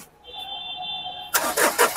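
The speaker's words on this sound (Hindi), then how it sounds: "जबरदस्त इंजन, जबरदस्त सेल्फ मारो" A 2015 Nissan Terrano's engine is self-started: a thin electronic tone hums first, then the starter cranks and the engine catches with loud rough bursts close by.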